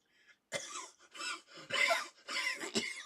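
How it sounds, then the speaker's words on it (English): Harsh, wet coughing fit from one person close up, several rough bursts in quick succession over a few seconds with brief gasping pauses between them. "I keep having these coughing jags."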